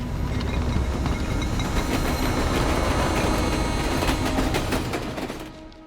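A loud train rushes by nearby, a dense clattering roar of wheels on rails that holds steady and then fades away at the end.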